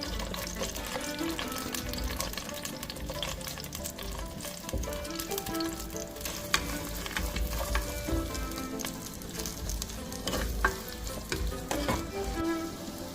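Onions frying in hot sunflower oil with fennel seeds and cinnamon for a chicken kurma, a steady loud sizzle with occasional stirring clatter, continuous and close throughout.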